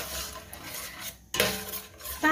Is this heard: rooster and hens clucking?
no